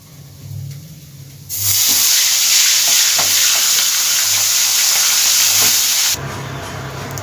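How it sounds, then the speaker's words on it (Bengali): Pieces of rui carp fish fry in hot oil, a loud, close, continuous sizzle that swells suddenly, holds for several seconds with occasional stirring scrapes, then drops back to a quieter bubbling. "বাদ বাকি মাছগুলো ভেজে নেব"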